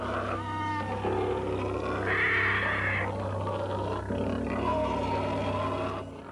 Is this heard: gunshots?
no